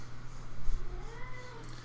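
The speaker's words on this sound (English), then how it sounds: "There's my cat." A house cat meows quietly in the background during a game session, a faint rising and falling call heard once or twice over low steady room hum.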